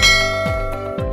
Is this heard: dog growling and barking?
no